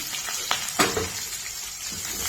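Onions and green chilies fry in hot oil for masala dosa, giving a steady close sizzle with a few sharp spatters and the scrape of a stirring spoon.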